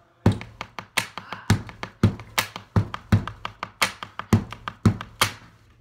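Pencil drummed as a stick to play a steady beat, a string of crisp close taps and thunks in an even, repeating rhythm, loud and alone with no talk.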